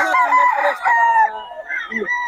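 A rooster crows loudly and close by, a long harmonic call lasting about two seconds, followed by a shorter, rougher crow, with no talking over it.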